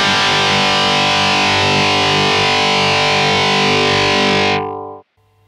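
Heavily distorted electric guitar through a Kemper profile of a modded Orange TH30 amp, a loud, dense sustained chord ringing for several seconds before cutting off abruptly.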